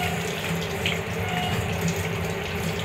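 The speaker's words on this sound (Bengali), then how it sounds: "কিছুক্ষণ জলটা পড়ছে, তারপরে জলটা অটোমেটিক বন্ধ হয়ে যাচ্ছে।" Water runs steadily from an automatic push-button tap in the washroom of a Vande Bharat train, a continuous close hiss and splash into the basin with no voices.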